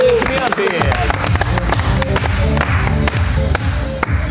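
A game show audience claps for a contestant, a dense, steady burst of applause lasting a few seconds with sharp individual claps standing out and voices mixed in.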